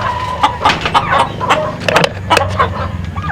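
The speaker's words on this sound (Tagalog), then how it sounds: "Kaya pupunta naman tayo doon sa mga manok." Chickens cluck in short, irregular bursts on a rural farm where native pigs are kept, fairly close and moderately loud over a steady low rumble in the background.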